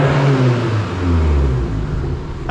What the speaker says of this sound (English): I love the way that a good equal length manifold sounds